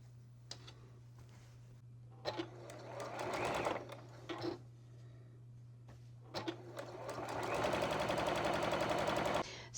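Sewing machine stitching a quarter-inch seam on fabric scrap quilt pieces, with short starts and then a long steady run of rapid needle rattle over a low motor hum, close by.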